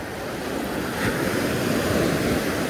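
Ocean surf rolls and washes steadily onto a black sand beach in Santa Cruz, California, in a rip tide zone, with a continuous broad rush that swells slightly midway, mixed with some wind buffeting and no voices.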